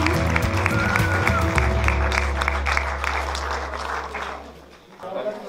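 Applause from the audience at a 2019 student film premiere, moderately loud and steady, mixed with sustained music and some voices, easing off near the end.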